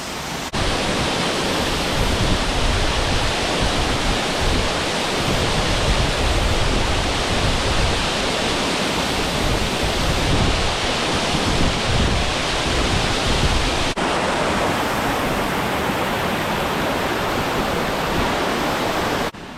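Dutchman Falls and its creek in Loyalsock Forest rush loudly and without pause, a thick broadband roar of falling water heard close up.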